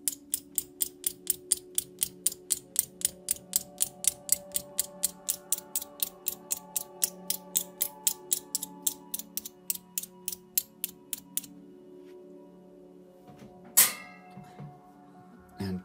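A repaired Canon T90 camera mechanism fires over and over in a fast, steady run of sharp mechanical clicks with a faint whirring hum underneath. The clicks stop abruptly, followed by a quieter pause and one louder clack near the end.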